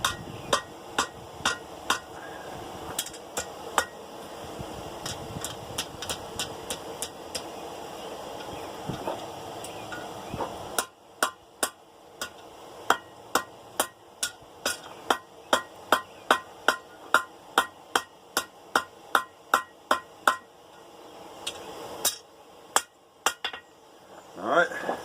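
Steel bent around the horn of an anvil into a tight hoop for a forged dinner bell, struck with a hammer in quick, ringing, metallic blows that speed into a steady rapid run in the second half; no speech.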